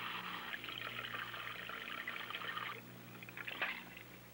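Water runs steadily over a denture being rinsed after scrubbing with soap, a continuous splashing pour for most of the stretch that eases off near the end, with a brief louder splash just after.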